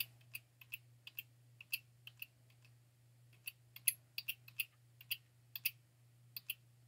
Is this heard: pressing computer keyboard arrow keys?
yes